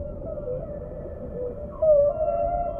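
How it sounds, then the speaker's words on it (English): Whale calls recorded underwater in the open sea: a steady low droning moan with a brighter, rising tonal cry near the end, sustained and moderately loud, no talking. "Sometimes whales use their own sonar, making sounds which can travel many miles, bouncing back from underwater mountains."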